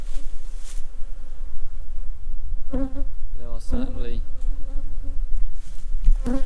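A dense, steady buzzing of many honey bees fills the air, with a few louder individual bees zooming close by and a brief spoken remark.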